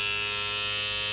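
A blackhead pore vacuum suction device running close up, giving a steady, loud electric buzz with a high whine that holds without a break.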